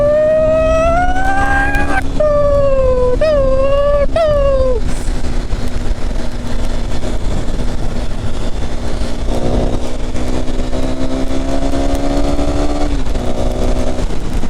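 A KTM Duke 390 motorcycle engine revs through several rising gear pulls, then settles into a steady drone with another rise and fall, loud and close throughout.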